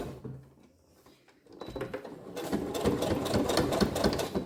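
A sewing machine topstitches around a fabric earphone pouch, quiet at first and then running in a steady, fast rhythmic whir of needle strokes that continues to the end, with no talking.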